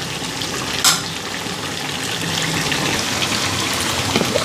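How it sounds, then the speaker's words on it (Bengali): Chicken meat frying in a pan, a steady close sizzle and crackle running throughout with a brief louder spatter near the start. "তো এইদিকে দেখো মাংস পুরা ফ্রাই হয়ে গেছে।"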